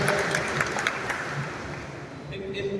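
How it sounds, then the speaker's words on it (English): A crowd at an outdoor ribbon-cutting ceremony for a new fire station in Daytona Beach, Florida claps steadily and fairly quietly, a continuous even patter that holds throughout. "everybody here, give yourself an applause for being here"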